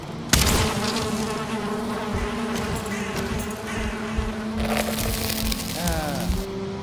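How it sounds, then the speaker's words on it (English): Swarm of bees buzzing around a hive in the Valheim video game, a steady close drone that runs continuously, with a sharp crack early on. "Hey, bees."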